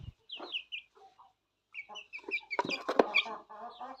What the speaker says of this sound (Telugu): పిల్లలు కానీ కోళ్ళు కానీ అన్నీ చాలా ఇష్టంగా అయితే ఇవి తింటాయి